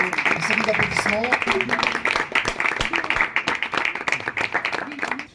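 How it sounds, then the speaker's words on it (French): An audience applauds at a community youth centre event, with dense clapping that thins out and breaks into scattered claps toward the end. "Je crois qu'il mérite une série d'applaudissements."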